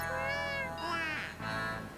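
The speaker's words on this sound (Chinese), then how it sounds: "他被这个小猫全程护住" A kitten meowing: one drawn-out, close, clear meow followed by a shorter softer one, with faint background hum.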